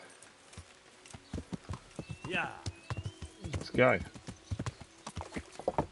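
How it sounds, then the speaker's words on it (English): Horse hooves clip-clop steadily in Kingdom Come: Deliverance, joined by a loud whinny or neigh midway, with a player speaking briefly over the hoofbeats. "Right, let's jump onto the horse."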